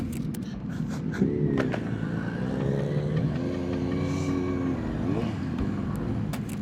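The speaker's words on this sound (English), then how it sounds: "Well, it's all kind of bikes there." Several motorcycles, including a Kawasaki ZX9R, pass on a ride out to Bridgnorth and the Poolhall Café, their engines rising and falling in pitch over a steady rumble of wind and road noise.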